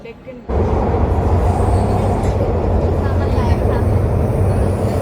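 Pune metro train riding, a loud steady rumble of the carriage in motion that starts abruptly and continues with low droning wheel and motor noise, voices faintly audible.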